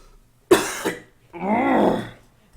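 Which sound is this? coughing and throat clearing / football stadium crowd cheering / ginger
coughing and throat clearing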